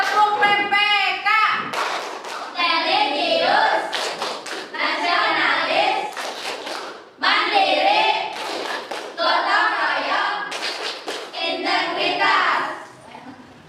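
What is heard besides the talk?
class rhythmic clapping chant, tepuk PPK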